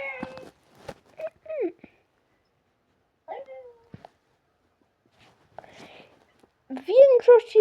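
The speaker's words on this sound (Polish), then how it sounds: "tych filmów słychać tego kotka." Several short meows come in scattered bursts with quiet gaps between them, and the last meows are louder and more drawn out.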